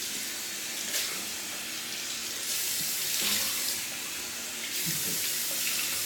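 A tap runs steadily into a sink for a cold-water rinse after shaving, a constant gush of water with occasional splashes and swells in intensity.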